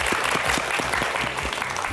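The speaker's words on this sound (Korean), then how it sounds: "큰 박수로 맞아주시죠" A seminar audience at a Korean talk on real estate and retirement planning applauds as the guest speaker is welcomed, steady full clapping at constant loudness with no speech over it.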